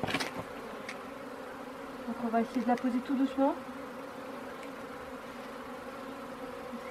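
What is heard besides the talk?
honey bees buzzing around hive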